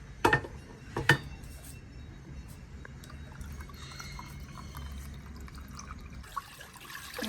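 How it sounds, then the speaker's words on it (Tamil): Two sharp metallic clanks of a pot, then a continuous soft rush of water pouring steadily, fairly close and moderately quiet. "அது பானையில் தண்ணி வைக்க போகிறேன்."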